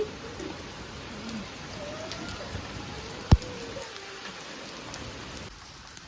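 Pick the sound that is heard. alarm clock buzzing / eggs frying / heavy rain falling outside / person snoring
heavy rain falling outside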